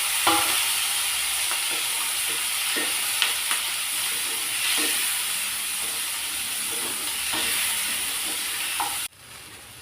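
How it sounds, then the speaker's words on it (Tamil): Tomatoes and half-cooked onions fry in a pan for egg kurma, giving a steady loud sizzle and hiss with occasional stirring scrapes, close by, before the sound cuts out near the end. "நம்ம தக்காளியும் அதிலே போட்டு வதக்கணும்."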